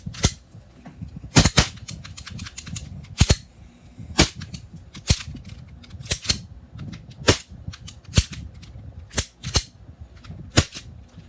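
A dirty, gummed-up gas blowback airsoft pistol fires sharp, loud cracks at irregular intervals, some in quick doubles, with uneven gaps where it malfunctions and jams.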